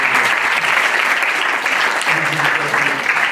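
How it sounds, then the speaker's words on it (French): A large audience at a digital awards ceremony applauds a BNP Paribas partner coming on stage, dense sustained clapping that stays loud and even throughout. "Applaudissez le partenaire BNP."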